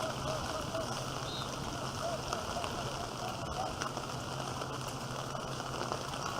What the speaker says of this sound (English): the rain keeps coming down